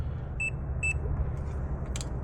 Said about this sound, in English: I'm gonna just check continuity again, just to be on the safe side, which we have here